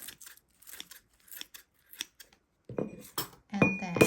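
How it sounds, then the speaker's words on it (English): Scissors snip a plant into small pieces, a series of short, crisp cuts spaced irregularly and heard close up, followed by a few louder clinks and rustles near the end. "I am going to first cut it into small pieces."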